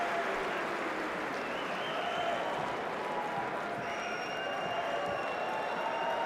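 Padel spectators at the Lotto Brussels Premier Padel P2 on Central Court applaud, a dense, continuous wash of clapping and crowd noise that holds steady throughout, with faint whistles.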